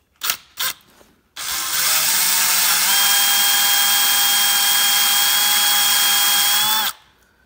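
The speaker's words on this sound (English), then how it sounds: "So I'll go back to the hole saw" Power drill spinning a hole saw into a Toyota 2JZ engine's oil pan drain plug, a loud steady whining drone lasting several seconds after a couple of brief clunks, close up and with no talking.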